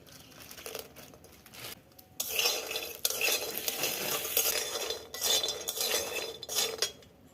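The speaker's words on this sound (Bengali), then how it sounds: "প্রথমেই আমি বড়িটা ভেজে তুলে রেখে দেব" Lentil bori frying in hot oil, a steady crackling sizzle with metal utensil scrapes and stirring clatter, louder in bursts after the first couple of seconds.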